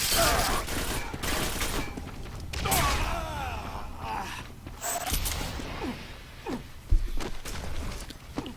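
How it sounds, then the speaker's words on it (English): Railgun shots in a Quake 4 two-versus-two team deathmatch, sharp bursts among dense gunfire, clanking mechanisms and footsteps, with a louder crack near the end. "Stywoo putting in work now with that railgun."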